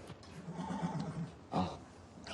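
A horse whinnies in a stable, with a long, wavering neigh followed by a second shorter, louder call near the end, close by and standing alone without speech.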